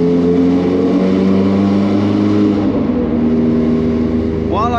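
A Ferrari engine idles and warms up with its exhaust valves open, a deep steady rumble heard close and loud throughout, with voices talking over it.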